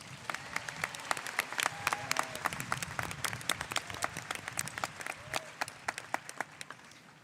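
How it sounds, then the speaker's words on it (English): Applause from the audience fills a 2021 high school commencement ceremony, with many quick clustered hand claps forming a steady crackling patter that fades slightly toward the end. No one speaks over it. "Let's give them a round of applause."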